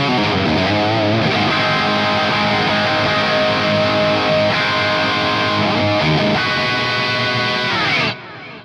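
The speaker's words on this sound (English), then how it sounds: "This is an amazing little amplifier, and there are some tones for you." Electric guitar played through a small RedStuff amplifier on its second, pulled-out tone stack with slightly reduced treble, giving a sustained distorted tone with ringing chords and lead notes, loud and continuous for about eight seconds before cutting off.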